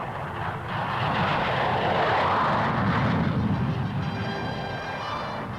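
Fighter aircraft roar past in a flying demonstration over a Formosan airfield, a loud, sustained engine rush that swells and then eases slightly, heard alone.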